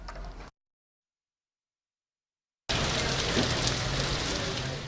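A heavy rain downpour hisses loudly and steadily at an outdoor ceremony at Kololo Airstrip in Uganda, beginning after a short silent gap.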